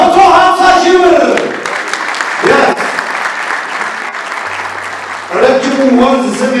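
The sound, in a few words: audience applause at a book auction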